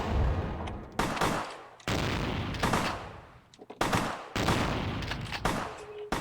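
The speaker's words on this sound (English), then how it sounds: "of course they start shooting at me" Enemy gunfire in Vampire: The Masquerade – Bloodlines, loud bursts of repeated shots arriving in several separate volleys with short gaps between them and no talk over them.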